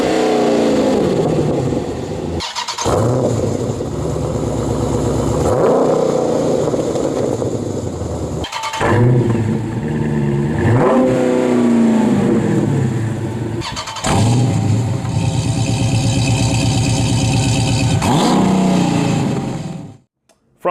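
Dodge Hellcat V8 revving hard through a catless stainless-steel exhaust, loud and close with repeated rising blips and sustained high-rpm roars broken by brief pauses.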